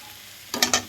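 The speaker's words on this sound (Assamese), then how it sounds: "আলুখিনি ইয়াতে দি দিছোঁ, আকৌ এবাৰ লৰাই দিছোঁ।" Potatoes and soya chunks stirred in a hot pan for a soya chunk curry, a low sizzle bursting into three close, scraping stirs near the end.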